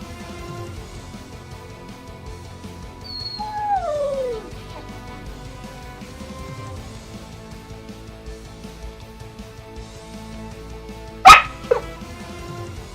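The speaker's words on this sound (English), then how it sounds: "Can you guys even hear my dog in the background?" A dog far in the background gives a rising then falling howl, later followed by two sharp barks, all faint and distant against a quiet room.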